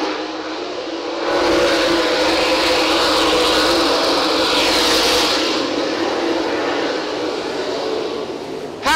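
A pack of 360 sprint cars roars past at Selinsgrove Speedway, the engine noise swelling into a loud, sustained blare that holds for several seconds and then slowly fades as the cars race away.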